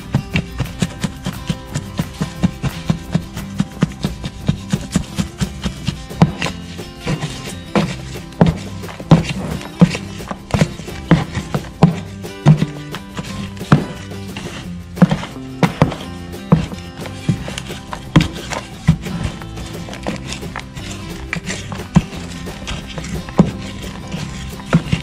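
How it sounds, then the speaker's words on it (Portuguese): Rice bran being mixed into a homemade natural fertilizer, heard as repeated hollow thunks and knocks in an irregular rhythm, close and fairly loud, with a container shaken and bumped throughout. "misturando melhor. Incorporar bem o farelo de arroz"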